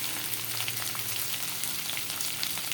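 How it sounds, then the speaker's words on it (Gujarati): Asafoetida and red chili powder are added to hot oil for an okra and potato curry, giving a steady, dense crackling sizzle throughout, close and uninterrupted, with no voices. "એમાં એક નાની એવી ચમચી હિંગ નાખીશું, લાલ મરચું પાવડર નાખીશું"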